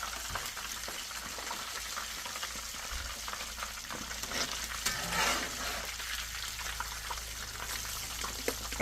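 Gluten-free churkey fillets fry in a pan with a steady, close crackling sizzle throughout, a few louder pops and spatters rising near the middle, and no talk over it.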